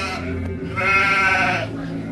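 Sheep and goats bleating: a single drawn-out, wavering bleat, loud and close, over a steady low drone.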